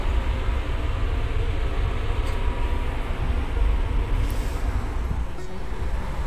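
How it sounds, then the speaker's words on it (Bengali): A passenger train moves slowly at night near a station, giving a steady low rumble and rolling noise heard from on board, continuous and fairly loud with a few faint higher clicks. "খুব স্লো চলছে ট্রেনটা"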